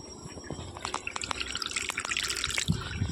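Water splashes and drips steadily from a pipe into a rooftop tank, with irregular trickling and pattering close by.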